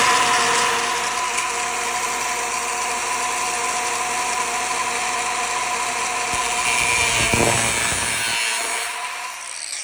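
A hacksaw or cutting tool saws through a flared end of a steel brake line on a box truck, a steady loud rasping cut running nearly continuously, with a brief louder burst near the end before it stops.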